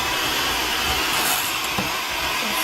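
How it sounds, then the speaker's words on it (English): An electric hand mixer blends ground chicken for egg rolls, giving a steady, loud whirring motor hum with broad hiss that runs unbroken throughout, with no talking. "I'm going to go ahead and use my hand mixer here to get it going"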